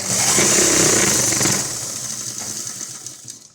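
A sewing machine runs a line of stitching along the back neck of an umbrella-style long frock, a steady close motor buzz for about a second and a half before easing into a softer, uneven whir.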